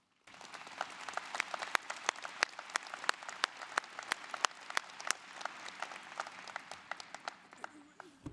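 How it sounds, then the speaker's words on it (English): Graduation audience at an ETSU fall commencement ceremony gives the faculty a round of applause, a sustained, reverberant patter of many hands with sharp individual claps in a large hall. "Graduates, please join me in a round of applause and recognition for our faculty."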